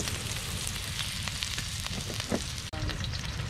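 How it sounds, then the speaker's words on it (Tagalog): Sliced onion sautéing in a hot pan for octopus sisig, a steady close sizzle and crackle of frying with small stirring clicks and one brief dropout. "Ngayon, mga kapuso, igigisa na natin itong ating sibuyas."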